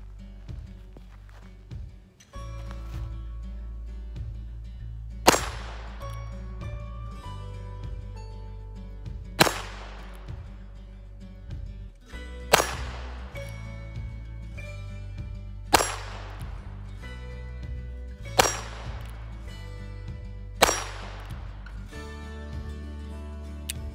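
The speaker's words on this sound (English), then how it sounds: "We're gonna shoot at 7 yards to start off with" A Heritage Barkeep revolver fires six sharp, loud shots at a 7-yard target, spaced several seconds apart in a slow, even rhythm, each with a ringing decay, over a low steady background hum.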